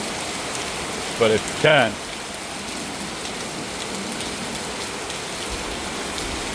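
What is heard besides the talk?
heavy rain falling at night outside a condo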